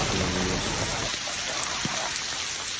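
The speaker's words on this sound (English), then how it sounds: "It was an absolute downpour, chucking it down" Heavy rain pouring down in Porto, a dense, loud, continuous hiss of drops hitting surfaces close by, with no talk.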